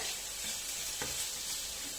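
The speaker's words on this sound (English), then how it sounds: "Prawns are sizzling here." Prawns sizzle steadily in a hot pan, a continuous bright hiss of frying with no voices.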